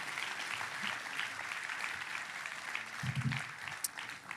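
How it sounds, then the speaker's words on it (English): Audience applause at a Keys to the City of Long Beach ceremony, a steady wash of clapping from a crowd throughout, with a few low voices mixing in near the end. "Let's give another big round of applause to Naomi for her incredible service."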